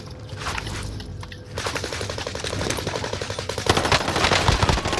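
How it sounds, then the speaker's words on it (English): Video game machine-gun fire rattles in fast rhythmic bursts, starting sparse then building into a loud, sustained stream of rapid shots from close range. "I'm getting shot at, I'm getting shot at from where we aim from"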